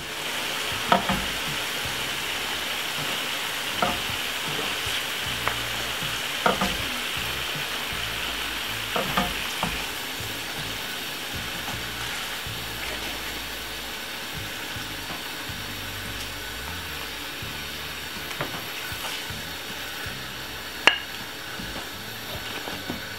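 Plantain slices frying in hot oil, a steady close sizzle and crackle running throughout, punctuated by occasional sharp clicks and taps of a utensil against the pan, with no talking.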